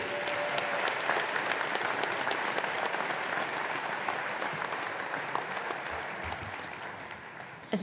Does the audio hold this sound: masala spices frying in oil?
no